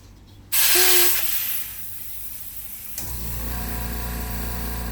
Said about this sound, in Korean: 이제 바람을 한번 넣어 볼게요